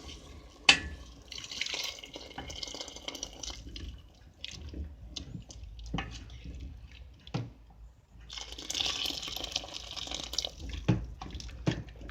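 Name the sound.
water being poured into lentil soup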